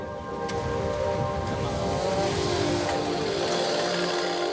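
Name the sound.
rain after a storm at a monkey park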